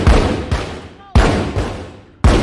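Loud gunshots in The Walking Dead: Saints & Sinners game, four heavy booming reports spaced about a second apart, each decaying into a long echoing tail, with a faint voice in between.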